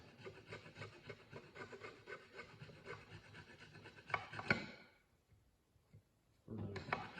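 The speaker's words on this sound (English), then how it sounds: "This file's a little aggressive." A metal file rasps across a DRZ400 motorcycle water pump part in steady, rhythmic back-and-forth strokes that stop near the end. Breathing and light handling noises are close by.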